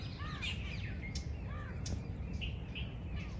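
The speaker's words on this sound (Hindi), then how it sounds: "सो आई होप आपको चिड़ियों की आवाज़ आ रही है पीछे। So many birds" Birds chirp and call in a nature park near the Taj in Agra. Several short, whistled chirps repeat at moderate distance over a soft, steady outdoor hum, fairly faint overall.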